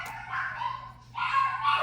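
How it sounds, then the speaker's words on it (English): Several pet dogs bark indoors at someone outside, probably a solicitor, in two yapping bursts with a short pause between, at moderate distance over a low steady hum. "you hear my dogs"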